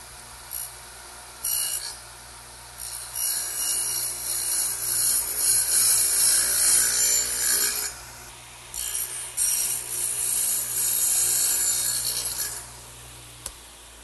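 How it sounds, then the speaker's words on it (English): Chisel or saw work cutting a dado for the shelf into a wooden workbench leg, a steady run of scraping and rasping strokes over a low background hum, fairly faint and close, with no talking. "now let's turn it over and dado out for the shelf"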